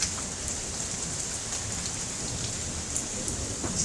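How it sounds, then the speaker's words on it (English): Heavy rain pours steadily during a Canadian thunderstorm, a dense continuous hiss of drops on surfaces with faint rumbles buried in the wash. "record the thunderstorm"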